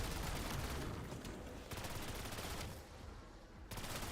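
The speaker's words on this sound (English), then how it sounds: "Is this the best SMG in the game now?" SMG fire in a video game: dense, rapid bursts of automatic gunfire run almost continuously, with brief dips between volleys.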